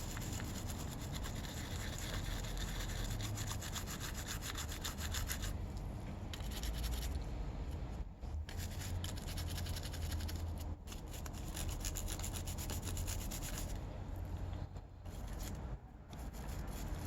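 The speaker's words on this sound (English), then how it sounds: "let's pull it out and see what happens when I start scrubbing him" Steady abrasive scrubbing of automotive primer being stripped from a miniature model, a continuous close rubbing rasp with short pauses throughout, no voices.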